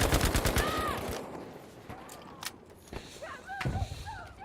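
Gunfire in the World War II shooter Battlefield V: a rapid volley of close shots at the start, then sparser single shots and bursts with some distant reports over ambient battle noise.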